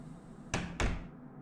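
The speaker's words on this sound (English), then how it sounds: "Can I close the door?" A door closing in the horror game Hello Puppets: Midnight Show: two quick, close wooden thuds about a quarter second apart, the second heavier, then fading into a quiet, dark ambience.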